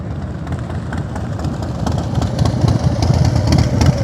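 Harley-Davidson Fat Boy motorcycle engine idling with a steady low rumble that swells slightly as the bike draws nearer, alone with no talk.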